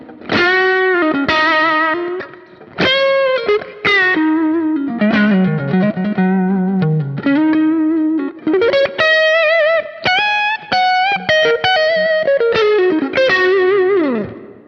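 An electric guitar runs through a Kemper Profiler, first fairly clean and then with a Klon-style overdrive kicked in, giving a louder, thicker, more driven tone. Loud riffs with strummed chords and single notes continue throughout, and no one speaks.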